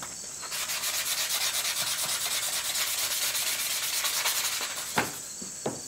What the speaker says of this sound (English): Then it doesn't matter how far you sand it up.